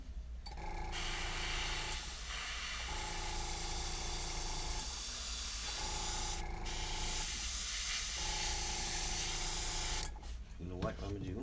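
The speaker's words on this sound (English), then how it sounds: "just going to go about by spraying everything up." An airbrush sprays paint onto a carved eagle walking staff in a steady hiss, broken by short pauses, while low music hums underneath and brief rustling follows at the end.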